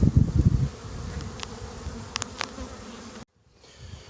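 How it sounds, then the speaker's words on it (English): Yellow jackets buzz around close by during honey extraction, a low droning hum with wasps darting past the ear, after some brief rustling handling noise at the start. "these damn yellow jackets have found the honey"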